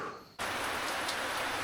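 Rain in a mountain rainforest valley, starting abruptly as a dense, steady hiss of downpour on foliage and surfaces, loud and continuous after a brief quiet moment.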